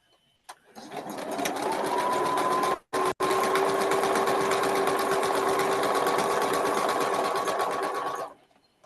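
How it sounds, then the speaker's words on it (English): A sewing machine stitches quilt pieces for a Dresden quilt block in a steady, fast whirring run up close. It stops for a brief moment partway through, then resumes and carries on until it cuts off. "just a little bit more sewing than planned."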